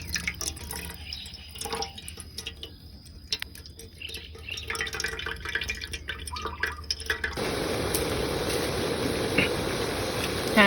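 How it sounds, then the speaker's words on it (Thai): Cooking water from boiled giant konjac stems is strained off. Liquid drips and trickles at first, then becomes a steadier, fuller pour of water in the second half. "กรองน้ำเกาออก น้ำที่เราต้มมาค่ะ เอาออกเลยนะคะ"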